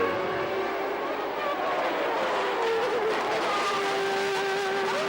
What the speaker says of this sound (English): As Berger moved alongside Senna going into the first corner, they discovered 2 into 1 won't go.